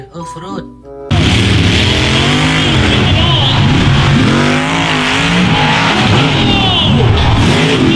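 Toy off-road car in a children's play session with toy diggers and trucks, making a continuous loud motor whir with wavering pitch, following a brief stretch of talk at the start.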